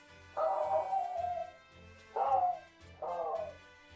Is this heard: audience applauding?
no